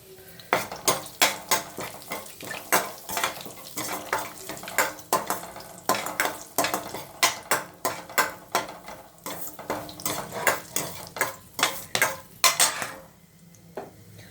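Whole fennel, mace, cardamom, cloves, cinnamon and dried fenugreek leaves fry in hot oil in a pan while a spoon stirs them, giving close, repeated metallic scrapes and clanks in an uneven rhythm over a faint sizzle.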